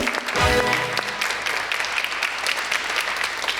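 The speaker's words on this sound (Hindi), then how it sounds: "भाई तालियां" Studio audience applauds on a talk show, a burst of clapping that starts after a brief low thump and continues steadily, moderately loud with no talking over it.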